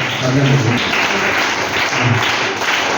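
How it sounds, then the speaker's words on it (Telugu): An audience claps to welcome a medical team at a free health camp, a dense, loud, steady wash of applause that runs throughout, with a voice speaking underneath. "అందరూ ఒకసారి గట్టి చప్పట్లతో మన సంగతి"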